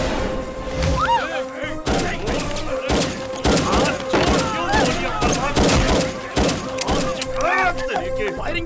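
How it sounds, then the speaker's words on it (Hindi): Gunfire in an action movie: rapid bursts of shots and thuds, repeated in rhythmic clusters, fairly loud amid dialogue and score, with people speaking throughout. "फायरिंग क्यों रोक दी? बुलेट्स खत्म हो गए।"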